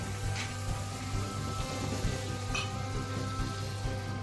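Butter sizzling on a heated flat pan, a steady, soft crackle and hiss with faint pops that continues evenly without any voices.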